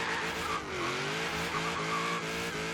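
A Chevy Bel Air gasser car in the racing game Forza Horizon 3 with a loud, continuous engine whine and rising harmonic pitch, tire squeal mixed in, held steady throughout without talk.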